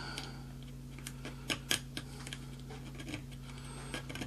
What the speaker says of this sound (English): You can also use the back of your X-Acto blade.